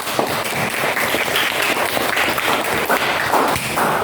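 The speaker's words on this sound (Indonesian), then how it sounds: "Oke, tepuk tangan semuanya." Students in a classroom clap together, a dense, loud burst of applause that fills the room steadily from start to finish, with no talking over it.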